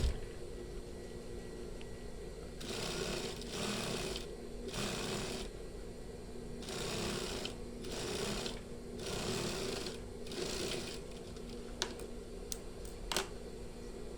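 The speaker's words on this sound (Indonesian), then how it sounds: "di sini kita jahit sesuaikan dengan kampuh" Sewing machine stitching the seam of a batik shirt, its motor whirring in several bursts of a few seconds each with short pauses between, close and steady, followed by a few light clicks near the end.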